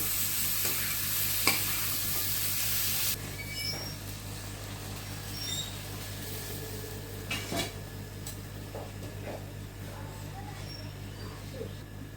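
Water poured into a hot frying pan after cooking, giving a brief loud burst of sizzle that drops to a softer steady bubbling hiss, with light utensil clinks and scrapes close by.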